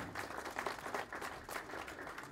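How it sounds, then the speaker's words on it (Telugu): An audience claps at a movie press meet, with scattered, moderately distant applause swelling and fading in uneven bursts. "వాళ్ళ కోసం ఒక గట్టిగా ఒక క్లాప్స్ కావాలి నాకు."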